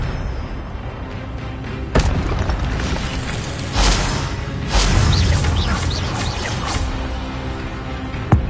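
Expelliarmus disarming spell cast in Hogwarts Legacy, heard as several sharp bursts and booms spaced a couple of seconds apart over a dense, noisy game soundscape.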